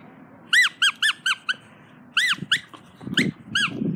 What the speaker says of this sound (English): Squeaky, squeaky ball.